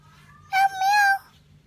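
A voice imitates a cat, giving one close, clear two-part meow over a quiet background.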